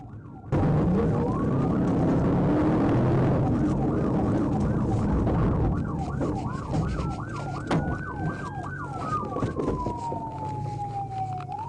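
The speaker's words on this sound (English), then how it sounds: "I activated my siren and informed dispatch I was in pursuit" A police car siren wails close by during a high-speed pursuit, cycling through rapid yelps before settling into a long rising and falling tone, with traffic noise underneath.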